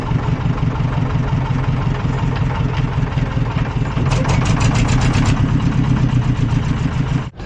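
A tour boat engine on the Ganges at Varanasi, India idles and chugs loudly and close by, a rhythmic mechanical drone holding throughout before cutting off at the end.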